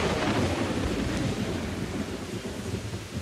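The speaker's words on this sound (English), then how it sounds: "The rain comes crashing down. The lightning thunders." A storm's thunder and heavy rain roll together in a dense, steady roar, loud and close throughout with deep rumbling underneath and no voices.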